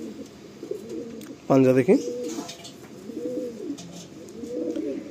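A Madrasi pigeon being handled coos in low rolling phrases, repeated close by, while a person speaks briefly over a sharper burst near the start.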